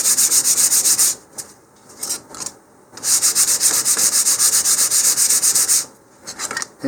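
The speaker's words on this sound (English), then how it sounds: "sand the surfaces. And I recommend using about 150 grit sandpaper initially, and just sand with the grain." Wooden model rocket fins from an Estes Hi-Flier XL kit are rubbed with 150 grit sandpaper along the grain, giving loud, close, sustained scratchy strokes in long passes separated by brief pauses.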